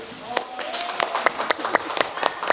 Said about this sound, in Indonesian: mari kita beri aplaus dulu